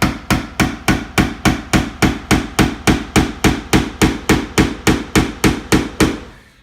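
A hammer strikes soft all-primed wall paneling about twenty times at an even, brisk pace, each blow loud, close and ringing briefly before the next.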